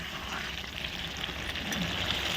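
Spices, masala and green chillies sautéing for a village-style duck curry, a short burst of steady hissing sizzle with light stirring, close and continuous, no talking.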